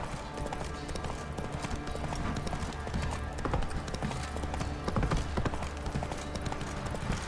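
The horse Roach gallops through The Witcher 3 with steady, rapid clip-clop hoofbeats under a dense layer of game noise, loud and continuous.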